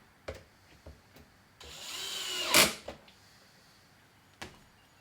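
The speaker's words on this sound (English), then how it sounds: "So I take a couple of screws, insert them in the beveled holes, and snug it right up" A power drill briefly whirs as it drives screws into a wooden spacer inside a snare cajon kit, rising to a short burst before stopping. Scattered clunks and handling knocks come before and after.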